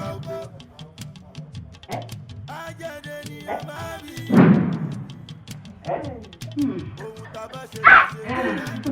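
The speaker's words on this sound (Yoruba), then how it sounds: "Ajá!" A dog gives a couple of sharp barks with yips and whimpers between them, close by, while people talk throughout.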